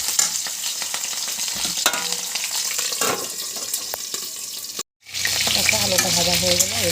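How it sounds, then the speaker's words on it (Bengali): Potatoes sizzle in a pan in a continuous, fairly loud hiss. Near the end the sizzle cuts out for a moment, then comes back with a different tonal sound mixed in. "আলুটা ভাজা হয়ে গেল"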